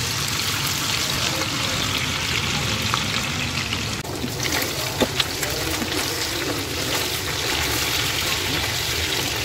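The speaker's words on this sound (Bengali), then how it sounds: "মাছগুলোকে সামান্য আদা ও রসুন মিশিয়ে সাথে একটু লবণ দিয়ে হালকা একটু ভেজে নেব" Pieces of fish coated with ginger, garlic and salt frying lightly in hot oil, a dense continuous sizzle and crackle close by, with a few sharper pops midway.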